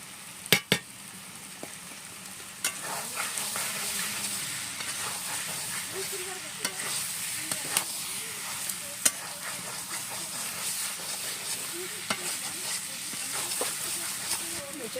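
Prawns that were fried earlier go back into a pan and get stirred while the dish cooks, for a jackfruit and prawn recipe. There is steady sizzling with scraping stir strokes and occasional sharp clinks through the whole stretch.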